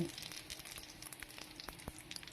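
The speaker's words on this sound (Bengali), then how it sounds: "এখানে হাফ চামচ গোটা মৌরি দিয়ে দিলাম ভালো করে ভেজে নেব" Whole fennel seeds, cardamom pods and cinnamon sticks fry in oil for chicken bhuna, making a faint, quiet crackling sizzle with tiny pops scattered throughout.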